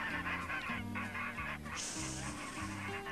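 A goose honks repeatedly in a farmyard, a run of loud nasal calls in quick succession, heard clearly at close range over a soft musical background.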